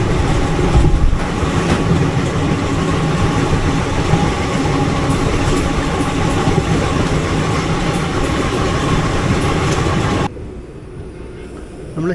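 The 17235 Nagercoil Express running on rails between Bengaluru and Thiruvananthapuram, a loud continuous rumble with wheel clatter that drops abruptly to a much quieter hum near the end.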